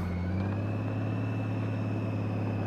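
A motorcycle engine holds a steady low throttle, kept under 2,000 rpm, through a slow U-turn. It gives a continuous, even low hum from close by, with no revving and no voices.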